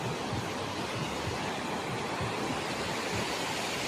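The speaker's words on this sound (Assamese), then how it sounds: "ইমান পানীৰ শব্দ" A big, cold river rushes past a bank where elephants walk. It makes a loud, steady, broadband roar that fills the whole stretch without a break, and no voices are heard.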